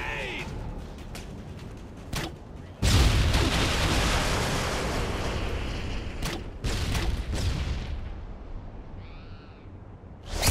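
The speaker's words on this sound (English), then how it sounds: "Grenade!" A grenade goes off in a Call of Duty Modern Warfare 2 Team Deathmatch match on the Quarry map: a sudden loud blast, then a long roaring rumble that slowly fades amid scattered gameplay noises.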